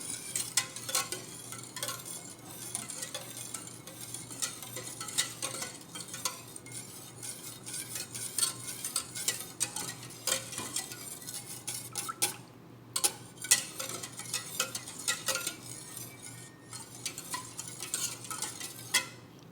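A milo leche flan mixture with gelatin is stirred in a pot, a utensil scraping and clinking against the metal in a steady, continuous rhythm at close range, with no talking.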